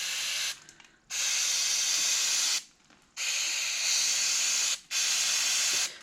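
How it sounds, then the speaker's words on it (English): Compressed-air gun blowing out generator carburetor parts, three loud hissing blasts of about one and a half to two seconds each, separated by short pauses, close and alone. "we're going to want to blow this out with the air gun"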